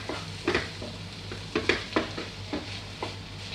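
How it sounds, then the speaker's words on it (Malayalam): Onions sautéed to light brown for Kannur-style egg puffs sizzle steadily in a pan while a spoon stirs them, making repeated scraping strokes over the constant frying hiss. "നമ്മുടെ സവാളയൊക്കെ നന്നായിട്ട് തന്നെ വഴന്ന് വന്നിട്ടുണ്ട്. നന്നായിട്ടൊന്ന് മിക്സ് ചെയ്യാം."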